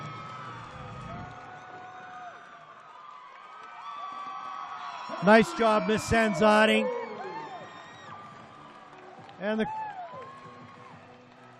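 A crowd in the Spectrum arena at a college gymnastics meet between Utah State and Southern Utah erupts in whoops and shrill cheers midway, with a second short burst later, while commentators talk throughout.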